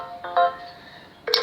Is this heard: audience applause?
no